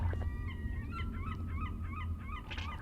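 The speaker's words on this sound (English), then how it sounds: "Seagulls. This game has taught me not to trust birds" Seagulls in the video game Garten of BanBan II cry in a rapid series of repeated squawking calls, fairly faint over a steady low hum.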